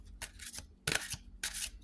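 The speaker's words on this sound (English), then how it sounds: "Let's see how this is to shuffle." A new, borderless oracle card deck is shuffled in three quick riffling bursts, crisp papery flutters close up with short pauses between them in an otherwise quiet room.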